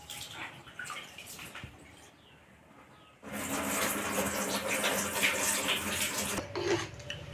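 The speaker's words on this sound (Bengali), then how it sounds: "গোবিন্দভোগ চালটাকে ধুয়ে নিচ্ছি।" Gobindobhog rice is washed in water: soft handling sounds at first, then a loud, steady rush of running water that stops near the end.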